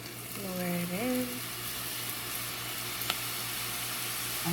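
Split pea dough frying in two cups of oil over low heat for a Guyanese sal sev snack, a steady soft sizzle running throughout, with a brief voice near the start.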